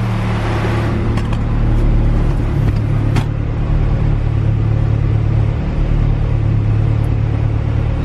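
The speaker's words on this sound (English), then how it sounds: "So I got the car idling now with the idle air control valve off." A turbocharged Honda B18C GSR engine idles at roughly 1100 RPM with the idle air control valve off, producing a loud, steady low rumble that stays even throughout with no talking.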